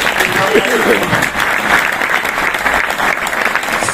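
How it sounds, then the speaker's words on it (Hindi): A large audience at an indoor gathering bursts into loud, sustained applause as a welcome, a dense steady roar of clapping lasting the whole stretch with a voice briefly audible beneath it. "तो एक बार जोरदार तालियों से वेलकम कीजिए।"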